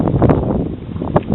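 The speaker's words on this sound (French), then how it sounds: "il y a du vent, c'est pas chaud ici" Countryside wind buffets the microphone in low, rumbling gusts, steady and close, with faint rustling and no talk.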